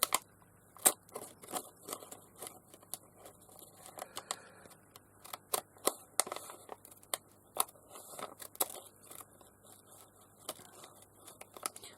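Scissors trimming a glassine bag, a run of crisp snips and papery crackles at irregular intervals, close and fairly quiet, with soft rustling between the cuts.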